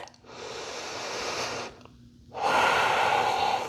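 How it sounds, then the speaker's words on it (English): A deep breath taken during a yoga flow: a long, close inhale for about a second and a half, a brief pause, then a fuller, louder exhale, with no talking. "Take a breath."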